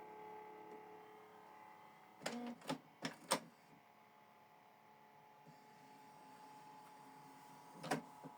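Canon Pixma TR4755i printer running a head alignment page, with a quiet mechanical hum punctuated by several sharp clunks and whirs of the print carriage, then another burst near the end.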